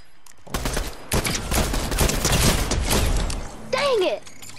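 Rapid bursts of DMR rifle fire in Fortnite ring out loud and close, a dense volley of sharp cracks lasting several seconds, with a short gap and a final burst near the end.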